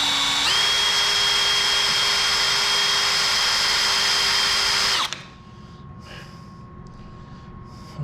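A power drill bores out a rivet on a 1999 Yamaha R1 motorcycle, a loud close high whine that starts sharply, holds steady, then cuts off, leaving a quiet background.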